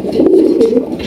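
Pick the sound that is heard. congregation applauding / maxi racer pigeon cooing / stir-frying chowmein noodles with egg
maxi racer pigeon cooing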